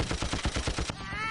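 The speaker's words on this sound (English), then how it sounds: "So now they're all getting shot at." Rapid bursts of video-game gunfire from Conker's Bad Fur Day, a fast machine-gun-like string of shots for about a second, loud and close, then cutting off into a quieter background.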